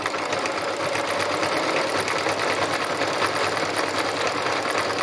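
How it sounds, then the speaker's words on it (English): A sewing machine stitches slowly and steadily, its fast mechanical whir and needle chatter holding an even, moderately quiet level throughout with no talking. "So although I'm using a sewing machine to do this, as you can see, the process itself is quite slow."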